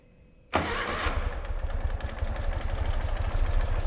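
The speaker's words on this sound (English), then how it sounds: "Starts right up, runs nice and quiet." A 2016 Ural Limited Edition Ambassador motorcycle engine cranks and fires abruptly, then settles straight into a steady, close idle with no talking.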